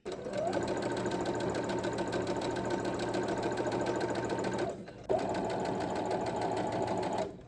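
A sewing machine stitches a sleeve onto a shirt in a steady, fast, close-up whir that runs for several seconds, stops briefly, then starts again.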